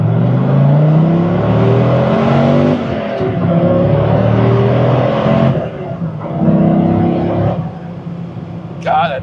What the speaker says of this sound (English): You can really hear the transmission in these things.